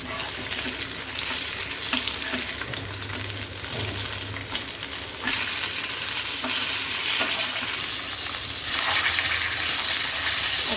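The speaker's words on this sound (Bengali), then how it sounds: "এবার অন্য সাইডটা আরেকটু মুচমুচে করে ভেজে নিতে হবে" Fish pieces fry in hot oil in a pan for a Bengali fish curry, a loud, continuous crackling sizzle with bursts of spattering and occasional stirring or turning sounds, close up and without talk.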